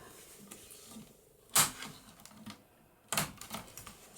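Paper for an altered book is cut. There are two sharp, brief snips roughly a second and a half apart, each followed by faint rustling, at close range over a quiet room.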